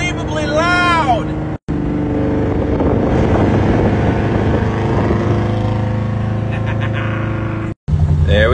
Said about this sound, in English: Now I'll be the first to admit this car is unbelievably loud.